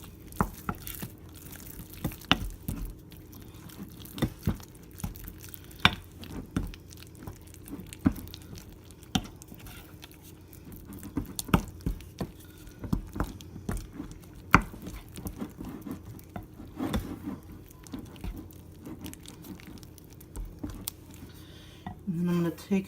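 Melted low-carb cinnamon roll ingredients mixed in a bowl, a steady series of close utensil clinks, taps and scrapes against the bowl in an uneven rhythm, moderately quiet with no talk.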